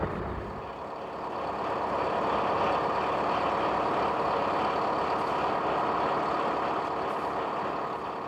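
A heavy bus engine drones steadily on a driving test course, rising slightly as the vehicle manoeuvres, a continuous mid-distance rumble with no talk.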